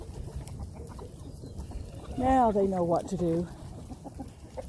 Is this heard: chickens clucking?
yes